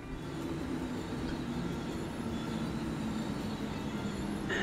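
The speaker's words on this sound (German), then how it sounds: "wir wollten ja eigentlich mit dem Zug mitfahren" V100 diesel locomotive train running in Transport Fever 2, a continuous rumbling rail roll with faint high wheel squeal and light clatter, steady and close throughout.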